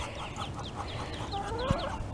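Muscovy ducklings and adult ducks in a garden give repeated soft chirps and low clucking calls, a steady close chorus of peeps with one brief louder squawk near the end and no talking.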